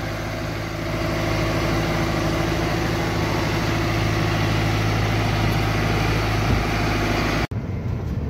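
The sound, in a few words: small tractor engine as it climbs out of a pit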